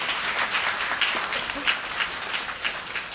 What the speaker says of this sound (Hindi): एक बार शुरू में ही दिल खोलकर इन तमाम महान कलाकारों के लिए ज़ोरदार तालियाँ बजाएंगे